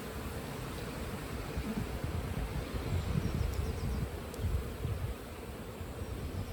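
Honey bees buzz at an opened beehive during brood frame work, a dense, steady low hum filling the whole stretch with slight swells, close and continuous without talk.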